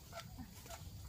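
A chicken clucks softly a few times outdoors in a durian orchard during branch pruning, faint short calls over low background noise.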